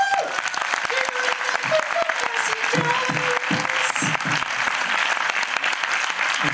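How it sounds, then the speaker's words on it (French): A theatre audience at a film Q&A session gives sustained, dense applause that stays steady throughout, while someone speaks over it. "on les applaudit bien fort."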